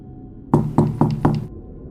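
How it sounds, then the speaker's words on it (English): Four soft, evenly spaced knocks on a door at night, close and muted, with quiet around them. "It was faint but steady, like someone knocking softly on a door."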